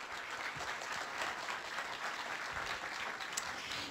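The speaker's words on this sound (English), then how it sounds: "Let's give a nice round of applause for our launch team here." At a NASA mission briefing for the Parker Solar Probe's Delta IV Heavy launch, the audience gives the launch team a steady round of applause that holds for a few seconds without any talk.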